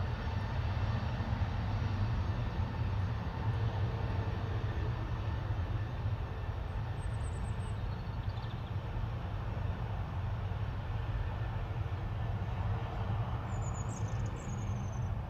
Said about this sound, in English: Cathay Pacific's taxiing out.